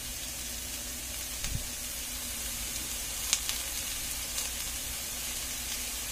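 Seasoned food sautés in a pan for Salisbury steak, a soft, even sizzle running steadily and fairly quietly, with an occasional small tap or clink of a utensil.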